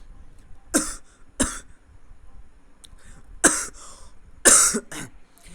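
Four sharp, separate coughs at uneven intervals, close and fairly loud, with quiet pauses between them and no talking.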